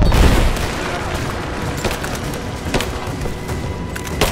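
Gunfire in the Rise of the Tomb Raider video game: a dense, continuous barrage of rapid shots and bursts, loud and close, over a rumbling background with scattered sharp cracks.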